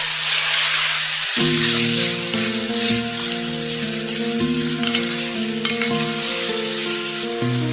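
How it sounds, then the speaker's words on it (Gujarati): Kerala-style chicken curry with tomatoes sizzles and is stirred in a pan, a steady close frying hiss running under background music. "બધાને સરસ ફેરવી દઈએ"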